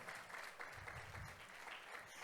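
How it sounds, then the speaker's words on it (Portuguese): Steady applause from a lecture audience, a dense wash of clapping hands that holds at an even level throughout with no gaps, fairly close and full. "Uma salva de palmas para ela, gente."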